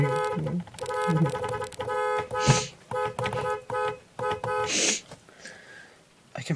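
A voice imitates a car horn honking rapidly, with a quick string of bright, buzzy toots in uneven bursts, mixed with laughter and other vocal noises in a lively room.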